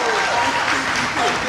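A church congregation bursts into dense, loud applause in acclaim during a service, the clapping sustained and even throughout, with voices mixed into the crowd noise.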